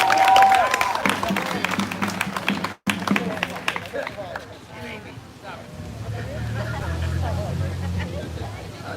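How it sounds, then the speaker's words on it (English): A crowd at a peaceful protest claps and cheers after a speaker, dense applause filling the first few seconds, a brief dropout, then scattered claps and murmuring voices trailing off. "Everybody give a wonderful round of applause to Brent."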